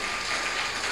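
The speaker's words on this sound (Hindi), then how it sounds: "ताली बजाइए उनके लिए एक बार जोरदार।" An audience at a religious discourse gathering claps together in a dense, steady burst of applause, loud and continuous throughout.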